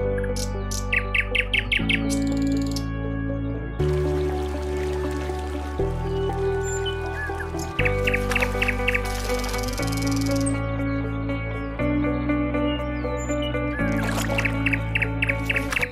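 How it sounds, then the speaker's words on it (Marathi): Birds chirp in repeated bright bursts along the Devkund mountain trek, fairly clear and close, over a steady tonal backdrop of sustained music. "इथे किलबिलाट मस्त ऐकू येतं आहे पक्ष्यांचा"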